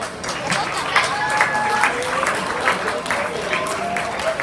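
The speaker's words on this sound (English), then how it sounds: "Round of applause." A crowd at an athletics awards banquet applauds with busy, overlapping clapping, and voices talk and call out underneath.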